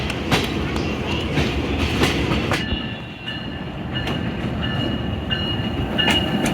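The Khyber Mail train pulls away from Peshawar City station and rolls along the rails, its wagons giving a loud, close, continuous rumble with rhythmic clickety-clack and a metallic ring from the wheels.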